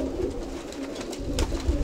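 Pigeons coo steadily in a soft, low, rolling murmur at close range, with no talk over it.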